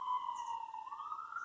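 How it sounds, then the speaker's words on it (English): Faint wailing siren in the distance, a single drawn-out tone slowly sliding in pitch over otherwise quiet surroundings at a UK allotment. "sorry about the sirens in the background"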